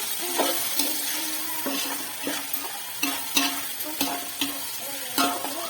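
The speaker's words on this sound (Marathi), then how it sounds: "हे टोमॅटो पण आपण याच्यामध्ये असं परतून घ्यायचं आहे" Chopped tomatoes sauté with onion in a pan for a chicken dish, a steady sizzle broken by regular scraping strokes of a spoon stirring, close and fairly loud.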